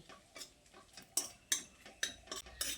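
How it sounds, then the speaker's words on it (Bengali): A spoon stirs crushed cardamom pods into hot ghee in a kadai while making sooji halwa, giving a string of light metallic taps and scrapes in an uneven rhythm, close and fairly quiet, with no voices. "এবার এই এলাচটা দিয়ে ঘিয়ের সঙ্গে কয়েক সেকেন্ড একটু মিশিয়ে নিচ্ছি"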